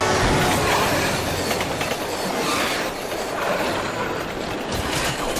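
A metro train rumbles past, a loud continuous roar of wheels and rails with faint rhythmic clatter, fading slightly partway through.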